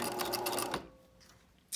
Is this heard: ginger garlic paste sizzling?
no